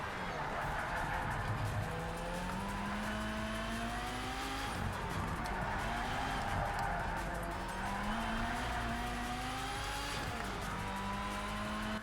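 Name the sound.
race car driving and skidding in video game Project Cars 3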